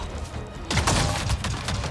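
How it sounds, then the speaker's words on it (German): Gunfire from Avatar: Frontiers of Pandora aimed at a walker's cockpit, a burst of rapid, overlapping shots that starts abruptly partway in and keeps rattling loudly to the end. "Schießt einfach auf das Cockpit schießen."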